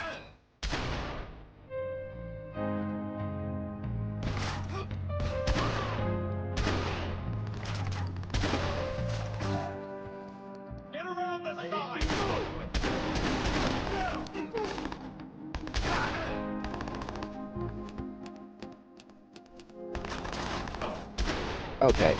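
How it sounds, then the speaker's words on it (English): Gunfire in the video game Watch Dogs, repeated bursts of shots and booms layered over a busy game score, fairly loud and continuous through most of the stretch, with several sharp broadband blasts toward the middle. "Who's shooting from here?"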